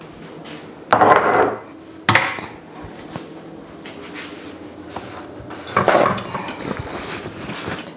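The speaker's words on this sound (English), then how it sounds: "Now I'm going to take my 1 egg, just 1 egg, crack it in there as well." An egg is cracked against a bowl and dropped into a Parmesan meatloaf mixture, with a couple of sharp knocks and short squelchy bursts near the mic, and quieter handling in between; nobody speaks.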